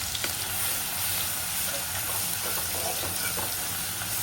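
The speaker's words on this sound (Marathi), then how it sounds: "आपल्या याच्यामध्ये आपलं टोमॅटो टाकलेला आहे तो आहे एक टोमॅटो घेतलेला टोमॅटो पण छान परतून घ्यायचं" Spice paste and tomato sizzle steadily in hot oil for a fish head curry, a constant close crackling hiss with occasional stirring scrapes.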